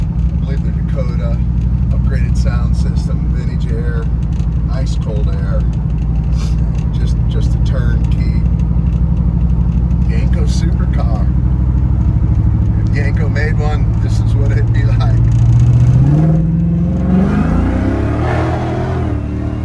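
A supercharged LT4 engine in a 1969 Yenko Camaro is revved with light throttle blips, a loud, steady rumble that swells near the end, with talking heard over it throughout.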